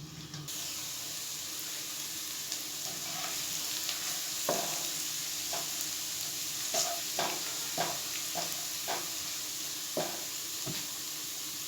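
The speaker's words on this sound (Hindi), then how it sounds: "लहसुन को अच्छी तरह हमने ब्राउन करना है" Oil sizzles quietly in a pan as crushed garlic fries, with intermittent scraping and clinking from stirring.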